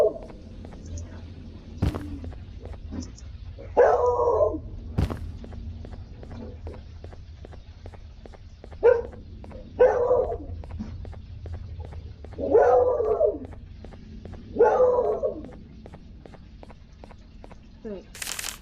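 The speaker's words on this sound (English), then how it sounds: "my dog." A dog in the Garten of Banban 3 video game gives several short barks and whimpers spaced a few seconds apart over a low background, with footstep-like clicks and people talking.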